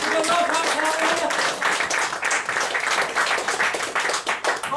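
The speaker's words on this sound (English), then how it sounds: "Everyone will give you a round of applause." Round of applause from an audience at a mind-reading stage show, dense scattered clapping with uneven bursts that continues steadily, fairly close and loud.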